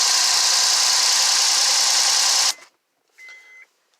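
A 2000s-era Honda engine with 165,000 miles, misfiring and rattling, runs loud and broadband with a rough, uneven roar, then cuts off abruptly partway through, leaving a brief faint tonal whine.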